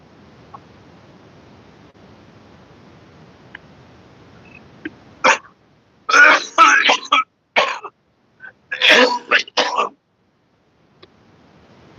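Several harsh coughing bursts in a cluster from smoking stale smoke, close and loud, following a quiet stretch with a few small throat sounds.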